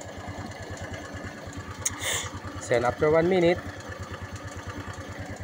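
Motorcycle engine idling with a steady, even, close-up putter after an oil change, with someone talking over it and a short mechanical whir rising briefly midway.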